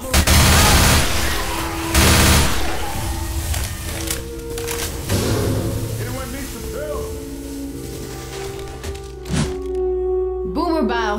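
Gunfire in the zombie shooter Left 4 Dead 2, with bursts of game shots and thumping impacts set against a steady background score, while players talk over the action.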